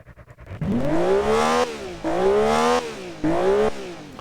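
A car engine in a video game revs up three times in a row, each rising whine held briefly then cut off, loud and clean with no talking.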